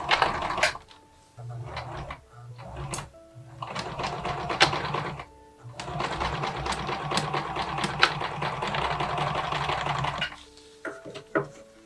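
Sewing machine stitching the shoulder seams of a vintage Barbie doll dress, with backstitching, running close and loud in several steady mechanical bursts separated by short pauses.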